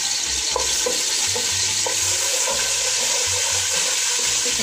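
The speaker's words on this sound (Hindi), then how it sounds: "इसको हल्का सा फ्राई कर लें।" Ginger garlic paste fries in hot oil in a pan, giving a continuous loud sizzle and crackle with a few soft scraping stirs underneath.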